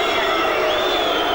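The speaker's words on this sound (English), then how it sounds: "the crowd booing" Boxing arena crowd booing and jeering after a fighter's disqualification, a dense, loud, sustained roar of many voices with shouts and whistles throughout.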